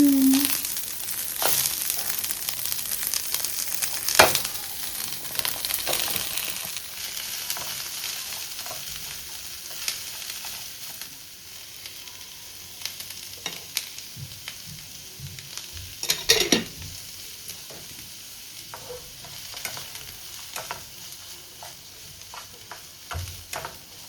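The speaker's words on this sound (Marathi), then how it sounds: "कांद्यामध्ये आपल्याला ना तेल टाकावं लागतं. पहिला मी कांदा ॲड करून" Onion frying in oil in a pan, a continuous sizzle with occasional stirring clatter and scraping, close by, fading slightly over time with no clear talk.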